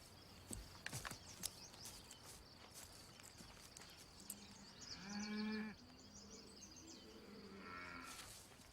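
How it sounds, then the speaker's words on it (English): Cattle low from just over a hill: one clear, drawn-out moo of about a second rises from faint outdoor rustling and footsteps, and a softer call follows near the end. "The cattle just over the hill."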